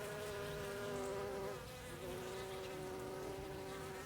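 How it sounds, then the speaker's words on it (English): A honeybee buzzes steadily at the entrance of a backyard hive in June, a close, continuous drone with a sustained hum throughout and a brief dip midway. "I thought this was a queen that was chirping, but there is a bee at the entrance there."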